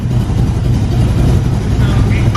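An AC Cobra fitted with a straight-pipe exhaust idles loudly close by, a deep, steady rumbling engine note that holds throughout with a slight blip near the end.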